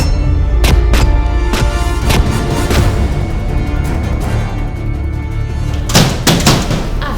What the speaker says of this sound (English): Gunshots all over.